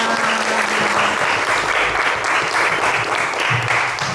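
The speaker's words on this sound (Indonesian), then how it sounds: "Tepuk tangan untuk kita semua." An audience at a teacher-training workshop in Surakarta breaks into loud, sustained applause that fills the room steadily from start to finish.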